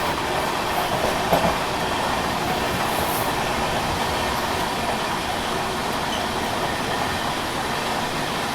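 An Ajmer–Solapur special train hauled by a diesel locomotive, heard from aboard a moving express near Kota, with a steady loud rumble of rolling wheels, faint rhythmic clickety-clack and no voices.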